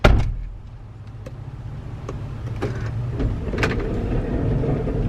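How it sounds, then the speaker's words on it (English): Electrically operated doors on a Tesla car whir and click as their motors run, with a sharp clack at the start and several brief mechanical ticks over a steady low hum, heard close by. "See, I can control doors in this car too."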